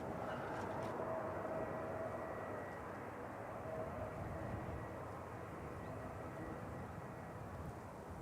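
A Ryanair airliner arriving from Milan at Manchester Airport, its engines a broad, steady low roar heard at a distance, with faint outdoor ambience.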